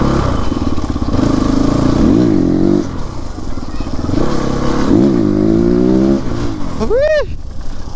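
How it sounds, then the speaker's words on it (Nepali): A CrossX 300x motorcycle engine revs loudly and close, rising and falling in pitch through several throttle blips, ending with a sharp high-pitched rev. "यस बाइक चाहिँ दामी छ दामी"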